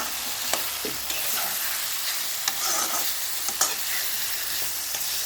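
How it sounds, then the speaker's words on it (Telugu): Onions and tomatoes fry in oil for a drumstick curry, a steady hiss of sizzling broken by sharp clicks and scrapes as a spoon stirs them through the pan, close and alone with no voices. "సో కొంచెం వేగాక ఇందులో టొమాటోస్ కూడా వేయించుకోవాలి. టొమాటోస్ వేసుకొని బాగా కలుపుకోవాలి."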